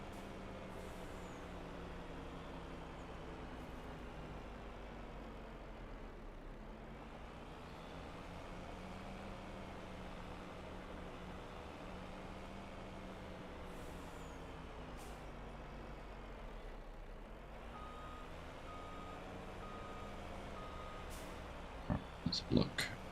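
Heavy truck engine drones steadily throughout a Farming Simulator silage session on a community multiplayer server, with air-brake hisses and a few short sharp beeps near the end, under intermittent talk.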